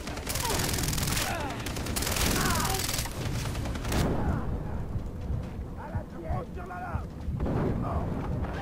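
Shots fired at a tank in the video game Far Cry 3 come as loud, dense bursts of booming gunfire and explosions over the first few seconds, then lighter rumbling and scattered bangs.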